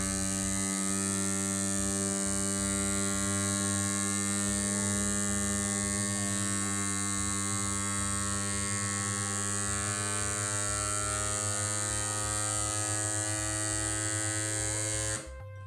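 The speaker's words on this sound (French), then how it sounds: "Lorsque on n'entend plus le bruit, ça veut dire que le sac est complètement vidé de son air" Vacuum sealer pump drawing air out of a bag of vegetables, a steady close motor buzz with a strong hum that runs unbroken for about fifteen seconds, then stops abruptly.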